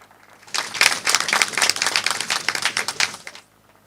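A short burst of dense, close clapping starts abruptly, holds steady for about three seconds, then cuts off. It celebrates the tenth anniversary of a Beninese press group.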